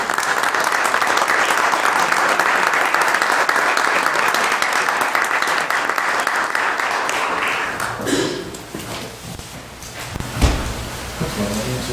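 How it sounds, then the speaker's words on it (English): A crowd applauds steadily for several seconds, then the clapping thins out into scattered claps and shuffling near the end. "we're going to give you a round of applause"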